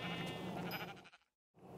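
A single sheep bleat from the Minecraft game, brief and close, trailing off into a moment of silence before other game sounds resume.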